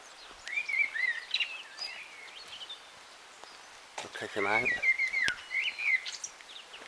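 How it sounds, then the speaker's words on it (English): Blackbird song on a walking route through Taunton, with fluting, warbling phrases in two bursts at moderate distance. Someone speaks briefly in between. "That sounds like a blackbird."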